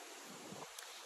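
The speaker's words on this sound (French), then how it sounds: "beaucoup de vent aujourd'hui" Strong outdoor wind roars as a continuous broadband rush buffeting the microphone, loud and steady throughout the short moment with no voices.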